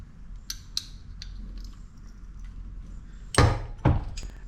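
Cutting blade being fitted onto a McGraw 3-inch air cut-off tool with an Allen wrench: a few light metallic clicks and taps, then two sharper, louder clanks near the end, close up with no talking.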